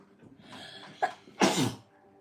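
A single person sneezes nearby: a short intake of breath, a small catch, then one loud burst of sneeze that trails off.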